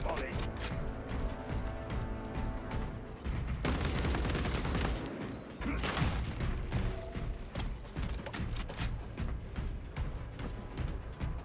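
Gunfire volleys ring out in a shooting video game, with bursts of rapid shots and booming impacts over layered game sounds and mechanical clatter, while a voice talks at times over the action.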